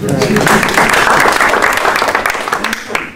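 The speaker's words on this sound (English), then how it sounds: "Actually, give a clap, lady." Audience clapping during a talk on outdoor learning from a Maori perspective, a short burst of dense applause from a group that tapers off after about three seconds.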